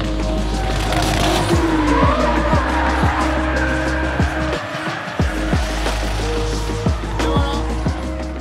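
Drift cars arrive in a tandem train at La Volrace, Spain's largest drift event, with loud engines, repeated tire squeals and skids, and sharp bangs from close range, while someone talks briefly.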